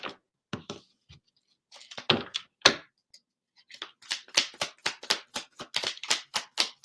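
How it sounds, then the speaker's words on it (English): Tarot cards are shuffled by hand in a quiet room, making a string of soft riffling and tapping bursts that thicken into a quick rapid flutter toward the end, with no voices. "We'll give one more shuffle."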